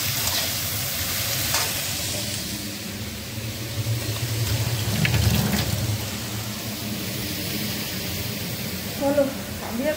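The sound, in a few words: frying vegetables and bori in a pan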